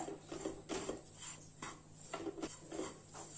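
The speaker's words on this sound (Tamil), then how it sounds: "அதனால நீங்க கிளறி விட்டுக்கிட்டே இருங்க." A spoon or spatula scrapes and stirs gram flour roasting in ghee in a pan for besan laddu, giving a close, repeated rhythm of soft scraping strokes and light metallic clinks.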